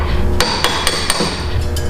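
Hammer blows knock scale off rusty Jeep Cherokee steering parts during a swap from Y-link to crossover steering, four or five sharp metallic strikes at an uneven pace over a steady low rumble in a shop.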